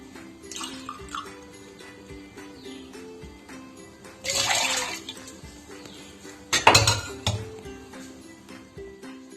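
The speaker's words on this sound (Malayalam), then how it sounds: "പാത്രം അടുപ്പിൽ വെച്ച് 2 ഗ്ലാസ് അരിപ്പൊടിക്ക് 2 ഗ്ലാസ് വെള്ളം ഒഴിച്ച് തിളപ്പിച്ച്" Water splashes into a cooking pot on the stove to boil for rice-flour dough, two sharp loud bursts of pouring between quieter clinks and handling noises.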